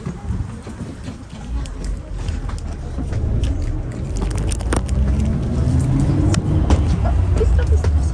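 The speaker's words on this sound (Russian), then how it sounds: "Все, мой автобус приехал." A city bus in Korea pulling away, its engine rumbling and rising in pitch as it accelerates, with rattles and clatter inside and people speaking.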